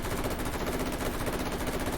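Rapid, continuous handgun gunfire fills the two seconds, dense overlapping shots with no pause, loud and steady throughout.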